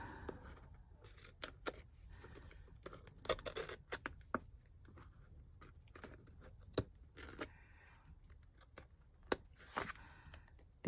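Dull scissors snipping and scraping through sticky paper scraps while making envelope folios, a run of short, crisp cuts and rustles at close range with no talking.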